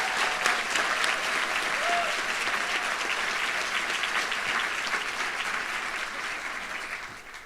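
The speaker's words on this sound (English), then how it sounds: "can we please give a round of applause for all the graduates today?" Sustained applause from a large audience at a university nursing master's graduation ceremony, a dense, even clatter of clapping that holds steady, then tapers slightly toward the end.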